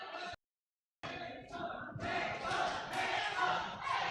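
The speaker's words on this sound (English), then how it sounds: "Ayun, nag-cheer sa labas." A crowd outside at a fight event cheers and shouts in a loud, sustained roar after a brief silent gap, swelling with yells.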